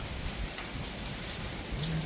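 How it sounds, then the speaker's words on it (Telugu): Heavy rain pours steadily during a windy storm, a dense even roar of drops on surfaces with a low rumble beneath, constant and close. "తొందరగా వర్షం తగ్గాల కోరుకున్నా మించి ఏం చేయలేను"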